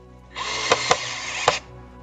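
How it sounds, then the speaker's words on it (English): A DeWalt power tool whirs unsteadily for about a second, its motor strained and faltering, with three sharp clicks or knocks breaking through the steady drone before it cuts out. "I think my DeWalt's dying on me."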